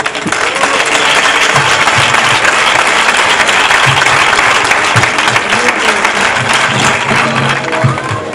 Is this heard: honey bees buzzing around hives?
no